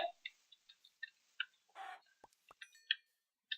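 Minecraft chickens clucking in short, soft, scattered calls, with one longer noisy burst midway, quiet and sparse against silence.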